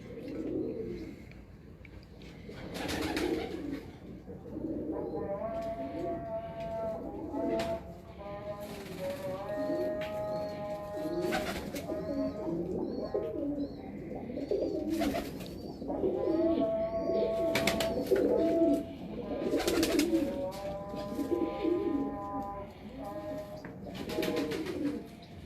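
Paired pigeons on a rooftop loft coo in repeated rolling phrases, close and clear, with someone talking intermittently over the birds and faint chirps mixed in.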